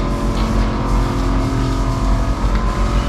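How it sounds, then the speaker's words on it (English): A KTM 390 Adventure motorcycle on the move, its engine a loud, steady low drone with rushing wind noise, continuous and close, with no talking. "we are driving this, the KTM the KTM Adventure 390"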